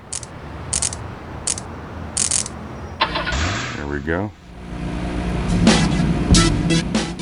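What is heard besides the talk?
car engine starting in Grand Theft Auto Chinatown Wars video game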